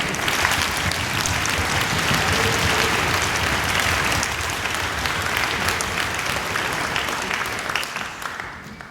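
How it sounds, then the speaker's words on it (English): Sustained audience applause at an orchestra concert, dense and steady clapping from a large crowd for several seconds before slowly tapering at the end. "One more round of applause."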